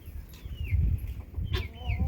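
Chickens cluck and squawk close by on a farm where young puppies sit calmly among them, short bursts of fowl calls over low rustling background noise.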